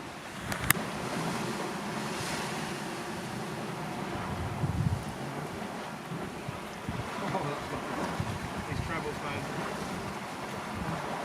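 Sea waves washing against a rugged, exposed rocky coastline near Tater Du Lighthouse, a continuous rushing surge of surf mixed with heavy wind buffeting at the microphone.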